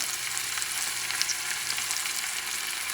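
Fresh tuna, salted on top, sears in a hot pan with a steady, dense sizzle that holds evenly throughout, close and alone with no voices.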